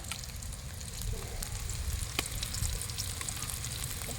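Ginger-garlic paste sizzles and fries in a pan for a home-cooked rabbit pepper curry, a steady close crackle with scattered scraping strokes from stirring.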